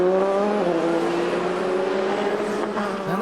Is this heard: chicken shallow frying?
no